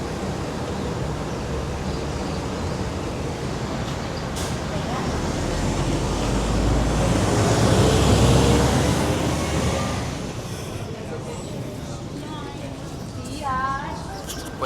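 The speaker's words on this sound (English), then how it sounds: "just about to leave. The bus I got off." A bus pulling away from the stop in Arrecife, Lanzarote, its engine rumble swelling and then fading amid street noise, with people talking nearby.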